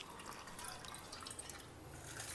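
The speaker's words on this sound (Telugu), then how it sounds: "ఇట్లా పెట్టేసుకుంటే బొట్టు బొట్టు బొట్టు బొట్టు కారుతుంది" Water drips from hung curd, being drained hard for paneer, in a quiet kitchen; faint soft drip ticks sit over low background noise, with no talking.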